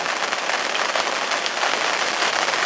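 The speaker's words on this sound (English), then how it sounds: "as you can hear, it's still raining" Steady rain pours onto surfaces at a pond fishery in Devon, a dense, even hiss of drops that stays loud and constant throughout with no voices.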